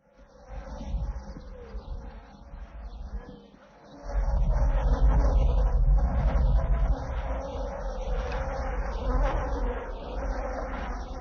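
Flies and other insects buzz around fighting bulls on a ranch, a dense, continuous, close drone that rises in waves and keeps going throughout.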